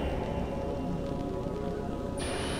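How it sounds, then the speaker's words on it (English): Steady rain and mist in a spooky video game scene, a dense even wash of patter with no talk. A thin high tone joins near the end. "the rain and the mist kind of freaked me out"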